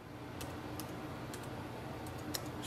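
Key clicks from a MacBook keyboard, a few light taps scattered across a short stretch of typing, close and quiet over a faint steady room hiss.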